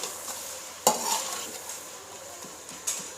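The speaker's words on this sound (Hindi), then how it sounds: "इस तरीके से आपने टमाटर मैश कर लेने हैं" Tomatoes being mashed in a karahi over high flame with ground green chillies: a soft, steady sizzle with a few sharp scrapes and taps of a utensil against the pan.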